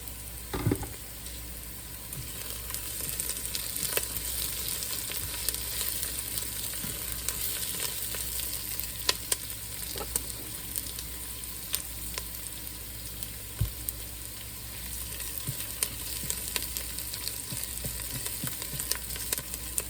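Potatoes and garlic frying in a pan give a steady, close sizzle and crackle, with occasional stirring clatters and pops over the continuous hiss.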